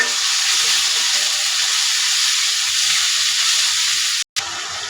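Ginger and garlic paste frying in a pan: a steady, close, broadband sizzle that holds evenly throughout, with a brief dropout near the end and no voices.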